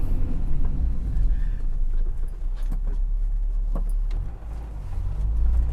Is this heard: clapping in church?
no